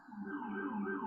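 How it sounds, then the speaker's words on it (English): A police siren rises and holds, sounding distant and muffled, with no talking over it. "Sorry about the sirens in the background."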